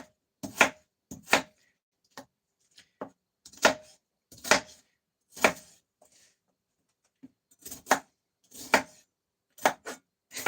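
Spring onions being chopped by hand with a knife on a board, in a series of sharp, close chopping strikes that come in short bursts with small pauses between them.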